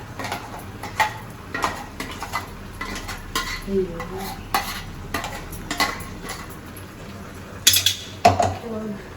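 Freshly ground masala is stirred into jeera rice in a pan, with repeated close scrapes and clanks of a metal spoon against the pan and a faint sizzle underneath.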